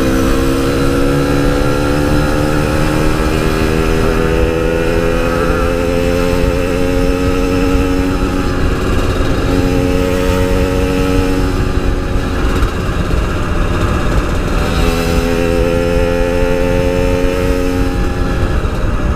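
A Yamaha RX King two-stroke motorcycle engine drones continuously while riding, its buzzing note rising and falling with throttle changes over steady loud wind and road noise, with no voices.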